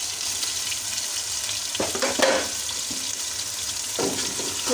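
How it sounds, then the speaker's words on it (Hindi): Masala spices frying in a pan for chatpati potato-and-liver (kaleji), giving a steady close sizzle with a few louder bursts of crackle and stirring. "मसालों को हम 4 मिनट तक अच्छी तरह से भून लेंगे"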